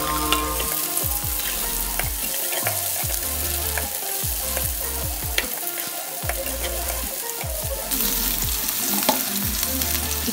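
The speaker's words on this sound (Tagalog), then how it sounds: "Simulan na natin igisa ang ating sibuyas at bawang." Onion and garlic sautéing in a pan for pork with tomato, giving a loud, continuous close-up sizzle and crackle with occasional stirring scrapes over a low background hum.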